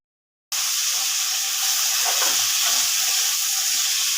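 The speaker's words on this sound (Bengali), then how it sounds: "এখন আলুটা একটু ভাজা হবে" Potatoes with their skins on fry in hot oil with spices, a sudden loud sizzle that starts at once and keeps up as a steady hiss, with faint stirring underneath.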